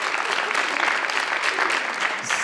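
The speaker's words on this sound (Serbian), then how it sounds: "Aplauz, bedan, jedan ali bedan" Audience applause at a stand-up comedy show: a dense, steady wash of clapping from a live crowd, fairly loud and continuous, with no voices standing out.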